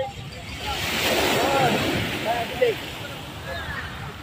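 Ocean waves wash steadily onto a beach, a broad continuous rush with wind buffeting the microphone and a slight swell midway.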